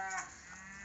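A single drawn-out moo from a cow in a farm herd, faint and somewhat distant, heard on its own.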